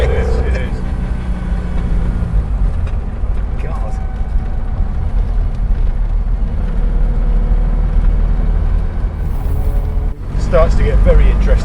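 Citroën 2CV fitted with a BMW motorcycle engine driving along country roads, a steady engine drone and road noise running under conversation throughout.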